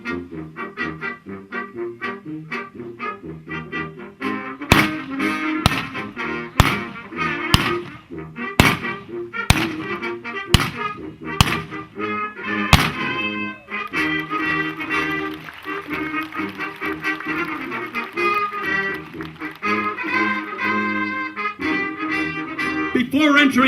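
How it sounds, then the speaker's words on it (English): Pistols fired in a Wild West trick-shooting exhibition, a run of loud sharp cracks at irregular intervals in the middle stretch, heard over a continuous bed of music. "Annie will now demonstrate her ambidextrous abilities with pistols."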